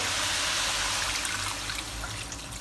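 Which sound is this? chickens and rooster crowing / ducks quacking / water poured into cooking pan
water poured into cooking pan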